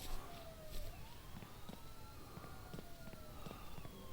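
A police car siren wails steadily in Thief Simulator, the video game, its rising and falling sweeps fairly faint and distant over a noisy background with scattered clicks.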